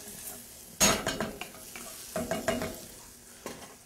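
Raisins caramelize in butter with ginger, jalapeno and garlic in a pan, giving a soft sizzle under a few sharp stirring scrapes and utensil knocks against the pan. The sounds are close and fairly quiet.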